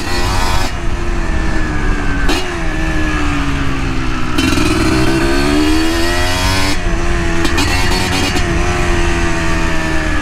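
A Kawasaki KMX motorcycle on a test ride after a new build, its engine loud and close throughout, revving up and down through repeated gear changes with rising and falling pitch sweeps.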